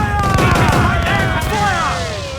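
Ship cannons in a naval battle in Assassin's Creed Black Flag fire a continuous rolling broadside of heavy booms, with sweeping tonal effects and shouting crew voices over the barrage.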